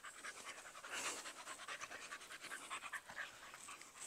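A female pit bull pants close by in quick, steady breaths, a soft rhythmic huffing that carries on without a break.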